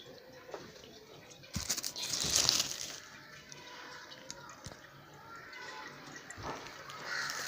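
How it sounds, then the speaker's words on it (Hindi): Water flows into a Haier automatic washing machine, a faint trickle and splash that swells for a moment, then settles into soft dripping and running water with occasional clunks. "ये देखें पानी आना शुरू हो गया।"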